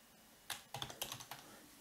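Quick burst of keystrokes on a computer keyboard while entering an include line in a PHPMyAdmin Apache configuration, about six soft, close clicks in uneven rhythm over a quiet room background.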